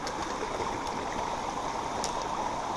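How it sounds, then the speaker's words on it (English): A brook flows at a river crossing, giving a steady broadband rush and babble of running water, close and constant throughout with no voices. "The lovely sound of the brook."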